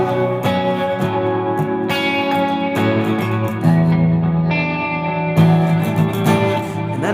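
An instrument is played through a distortion effect, giving buzzy, sustained chords and notes that ring out in several strummed bursts, loud and close with no talking.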